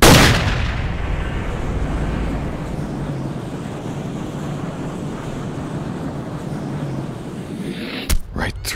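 A loud hunting rifle shot aimed at a barren ground caribou in Cabela's Hunting Expeditions on PS3 opens with a sharp blast. Long windy, surf-like outdoor ambience follows, then a couple of sharp cracks near the end.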